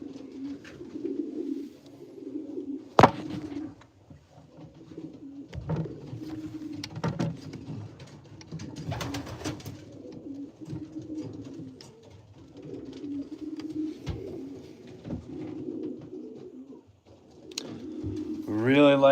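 Pigeons coo steadily in a loft, their low rolling calls layered throughout, with occasional wing flaps and soft shuffling, and a voice speaks in places.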